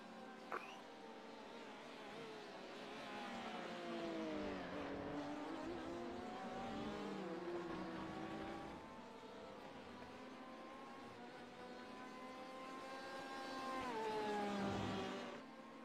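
A Porsche race car's engine drones and shifts pitch as it heads into the pits, a continuous, moderately distant whine with rising and falling revs, with no voices over it.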